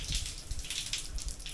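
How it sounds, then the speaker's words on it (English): Water drips and trickles in a weak hotel shower, a close run of irregular small splashes and patters without any voices. "Or just little drips like this here."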